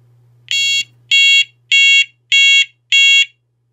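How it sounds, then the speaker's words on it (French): An ARKEON type 4 battery fire alarm runs its siren test, giving five loud, evenly spaced electronic tones, each about half a second long, after a faint low hum and a small click. "ça fait un essai sirène et un essai flash"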